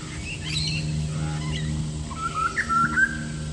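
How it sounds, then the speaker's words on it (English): Birds call outdoors in a paddock in Brisbane, Queensland, Australia, over a steady low rumble, with a rising whistled song standing out near the end and fainter chirps earlier. "I hope you can hear the birds in the background."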